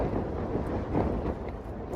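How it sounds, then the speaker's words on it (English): Wind gusts buffet a tent at a freezing solo winter wild camp by Red Tarn, a continuous roaring rush with swelling surges, loud and close with heavy low rumble against the microphone. "it's just these gusts that keep whacking through"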